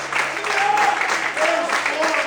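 Applause for the Lord from a church congregation during a Portuguese-language evening sermon, a steady dense wash of clapping over the whole stretch, with faint voices and a few whoops rising through it.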